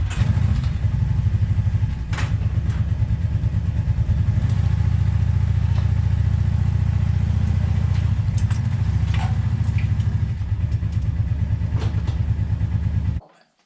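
Engine of a Ford Bronco II donor vehicle runs steadily at a low, throbbing idle with faint clattering as the truck creeps forward, holding loud and constant before cutting off abruptly at the end.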